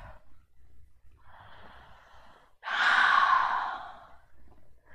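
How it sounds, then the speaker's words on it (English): A deep yoga breath: a soft nasal inhale followed by a louder, longer open exhale that fades out, close and calm, with no talking over it. "Nice big breath."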